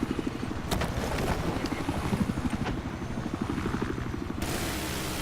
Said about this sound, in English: They've got the helicopters, as you said, in support.